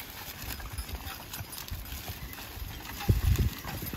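Horse hooves clip-clop in an uneven rhythm as a three-horse hitch pulls a plow through a field, with a louder cluster of heavy steps near the end over low background rumble.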